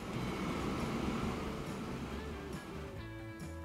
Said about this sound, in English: There's another train on its way.